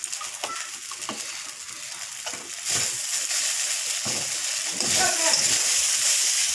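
Ghee goes into a pan of sweetened chira pulao (flattened rice), bringing a soft hiss that swells into a brighter sizzle midway, with scattered stirring clinks and a voice speaking quietly underneath.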